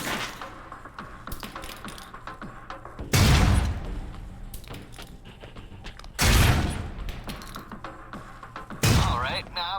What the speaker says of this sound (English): They're concussion rounds, so don't be skittish.